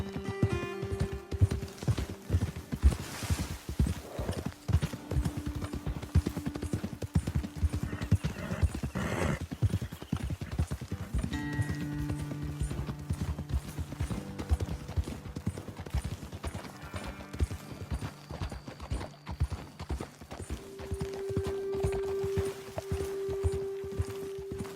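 Horses walking in the western game Red Dead Redemption 2 give a steady clip-clop of hooves for a long stretch, with occasional snorts and whinnies and brief quiet talk between riders.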